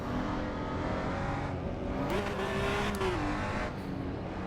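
A Honda NSX engine in the racing game Assetto Corsa EVO drones steadily, with a brief rise in revs midway before settling, heard continuously without talk.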